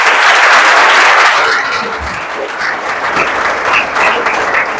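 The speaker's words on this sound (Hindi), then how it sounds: "तालियां।" Loud applause from a crowd at a defence academy gathering in Indore, dense steady clapping throughout that eases slightly midway, with no talk over it.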